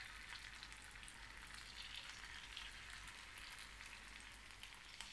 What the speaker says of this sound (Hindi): ये चिकन जो मैंने मैरिनेशन किया था, थोड़े से ऑयल में डाल रही हूँ सारे चिकन के टुकड़ों को